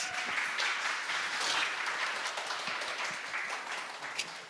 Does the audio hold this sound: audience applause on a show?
yes